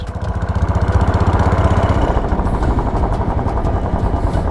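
A Royal Enfield Bullet 500 motorcycle engine runs close by, its loud, steady, low thumping beat pulsing evenly throughout with no voices.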